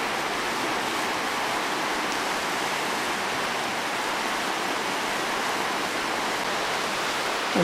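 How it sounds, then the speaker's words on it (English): A steady, broad roar of a river rushing beneath a bridge in the Mulu rainforest caves fills the scene without a break, loud and close, with no voices. "underneath is the roaring river"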